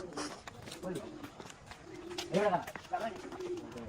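A human voice imitates a pigeon's cooing call, a short close burst of throaty, warbling coos in a quiet setting.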